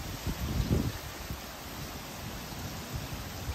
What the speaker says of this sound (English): So the wind seems to be coming from right to left.